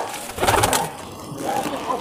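Breeding pigeons coo in a loft or coop, a soft murmuring call rising and falling at close range over two seconds, with faint background voices nearby.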